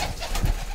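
Punjabi Malwai pigeons coo close by, a short low burst of soft rolling coos that swells in the middle before easing off.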